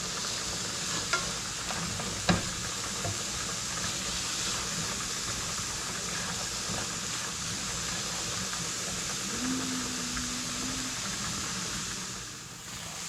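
Onions and vegetables for breakfast egg rolls sauté over raised heat in a pan, a constant close hiss and sizzle with an occasional knock of a utensil and a brief tonal whine partway through.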